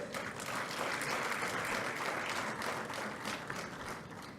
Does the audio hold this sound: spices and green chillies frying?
no